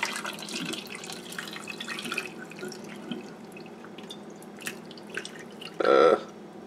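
Liquid being poured, heard as scattered drips and small splashes that build to a brief, louder gush near the end, close and otherwise quiet.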